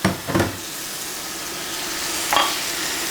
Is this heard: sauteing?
yes